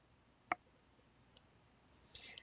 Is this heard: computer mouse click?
yes